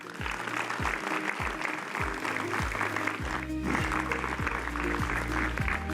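A seated audience at an agricultural programme held at a farming research institute in Meerut applauds steadily, a continuous wash of many hands over a repeating low rhythmic musical beat.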